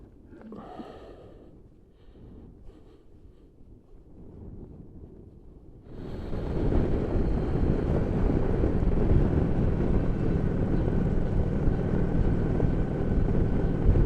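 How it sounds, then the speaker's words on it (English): Strong wind gusting outdoors in the Yorkshire Dales during a Honda VT750 Shadow Spirit motorcycle ride, quieter at first then abruptly becoming a loud, sustained roar buffeting the microphone. "the wind is really picking up now"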